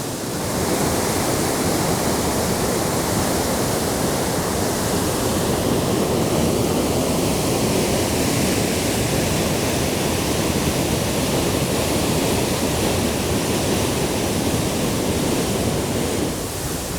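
The waterfall at Svartfossgrotta in Scandinavia roars in a steady, loud, unbroken rush of water, with no voices.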